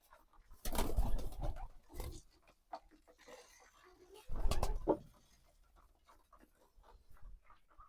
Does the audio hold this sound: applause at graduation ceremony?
no